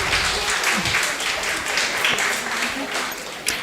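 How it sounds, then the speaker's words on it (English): Audience applauding at a college engineering certificate ceremony, a steady wash of clapping from a hall full of people, moderate and continuous, with a voice speaking over it. "Audience, please give a big round of clap."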